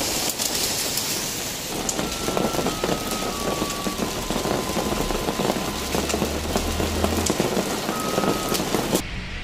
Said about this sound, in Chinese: 又下雨一下冰雹的这。